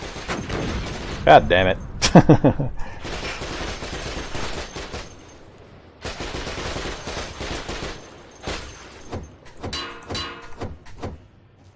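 Bursts of enemy gunfire in the video game Cataclysm DDA, repeated volleys and rapid shots at moderate loudness, with a voice cursing briefly over the shooting.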